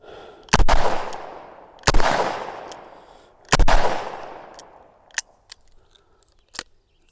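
A Smith & Wesson 627 Performance Center revolver firing: three loud, sharp shots spaced a couple of seconds apart, each ringing out into a long decaying echo, followed by a few faint mechanical clicks.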